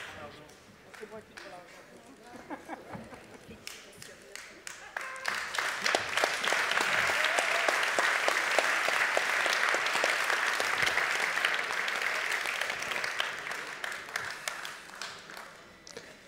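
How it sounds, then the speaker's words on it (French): An awards-ceremony audience in a hall applauds as a trophy is presented, scattered claps building after about five seconds into a loud, sustained wave of clapping before tapering off at the end. "on va remettre le trophée sous les applaudissements de la salle"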